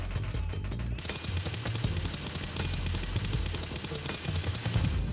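Rapid automatic gunfire from PUBG Mobile while testing a 6x scope with gyroscope settings, a dense continuous stream of shots with sharp repeated cracks, loud and steady for several seconds with no talk.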